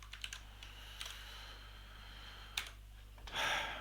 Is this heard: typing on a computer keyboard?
yes